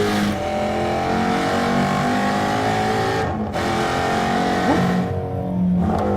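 Loud, sustained engine roar from a 2016 Ford Mustang Shelby GT350R or 2015 Chevrolet Camaro Z/28 revving hard, a steady dense drone with brief dips and a rising rev near the end, no talk over it.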